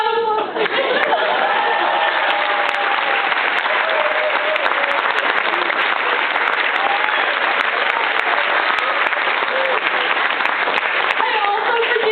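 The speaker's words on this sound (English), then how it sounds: "So round of applause." Wedding guests at a maid of honor toast break into loud, sustained applause that fills the room from start to finish, with voices calling out over the clapping.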